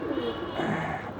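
Pigeons coo softly on a seventh-floor rooftop under bright sun, a low, continuous murmur of overlapping calls lasting about a second with no talking over it.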